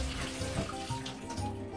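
Camporreal olives being rinsed under a running kitchen tap, with a steady, close splashing stream of water that continues unbroken throughout and no talking.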